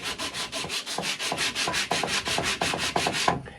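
A dogwood arrow shaft being hand-tapered, with rapid, regular rasping strokes of sanding or scraping against the wood, close and loud, continuing steadily without talk until it stops at the end.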